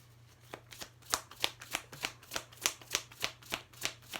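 A deck of affirmation cards is shuffled in a steady, even rhythm, about a dozen crisp riffling flicks close by, with a faint low hum underneath.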